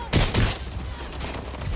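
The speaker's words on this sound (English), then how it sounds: "Careful! Shot fired!" Rapid burst of gunfire from Watch Dogs Legion, two loud close shots up front followed by a denser crackling volley that fades slightly over under two seconds.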